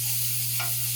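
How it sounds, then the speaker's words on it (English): About a pound of 90-10 ground pork sautéing in a hot pan, a steady close sizzle with a brief stirring scrape partway through. "In a hot pan, saute up some ground pork."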